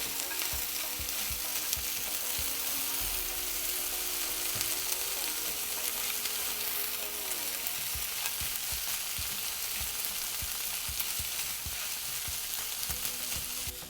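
Eggs and vegetables stir-fried together inside an Instant Pot for fried rice, giving a steady close sizzle with repeated scraping stir strokes throughout, no talk.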